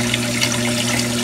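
Protein skimmer in a saltwater aquarium churning water into bubbles, a loud, steady rushing fizz with a constant low pump hum underneath.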